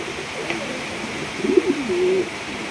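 A Jade Kasha pigeon coos a couple of soft, low calls, close by, over a steady hum of background noise.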